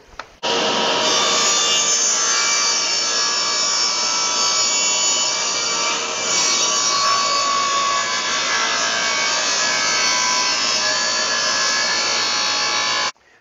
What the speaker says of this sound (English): we're going to cut the corner of it off so it'll be